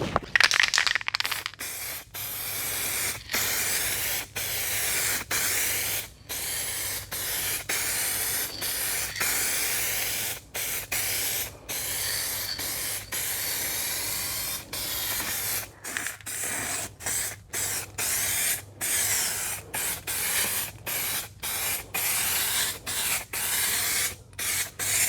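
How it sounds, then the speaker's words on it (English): Steady aerosol spray from a U-Pol 2K spray can hissing close by as a car wheel arch is painted, in long continuous bursts, cut by frequent short pauses as the nozzle is released and pressed again. "I'm going to open the door and just spray in the arch as well."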